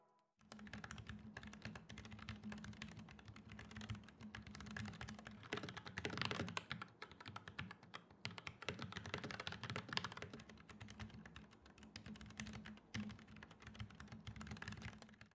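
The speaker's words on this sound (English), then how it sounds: "not only do the keys feel really good to press on, they're extremely silent" Steady, continuous typing on a Kemove 61 Snowfox mechanical keyboard, with soft, muted key presses in a fast, even rhythm and no voices.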